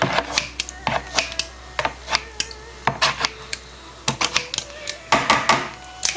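Scissors snip repeatedly through soaked rice vermicelli, cutting it into short strips for frying; a quick, irregular run of sharp close clicks with brief pauses and no talking.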